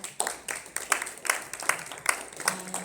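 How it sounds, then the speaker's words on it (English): Audience applause at an indoor training event, a thin scattering of claps in an irregular rhythm, fairly faint and brief. "I want to thank Rick Tyler, round of applause for that."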